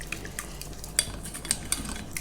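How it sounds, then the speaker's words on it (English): Milk being whisked into a white sauce for moussaka, off the heat, makes soft continuous swishing with a few bright clinks of the whisk against the pan, close and fairly quiet, with no one speaking. "Keep whisking that until all the milk is added."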